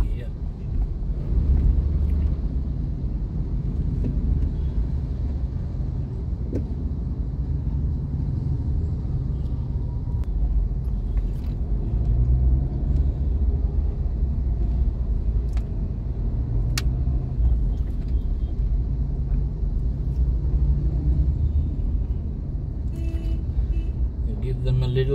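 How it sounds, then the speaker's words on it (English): Busy city road traffic in Chennai, with cars and auto rickshaws: a steady low rumble of engines and passing vehicles, heard from inside a moving vehicle, with wind noise and a few faint horn-like tones. "And lots of traffic here."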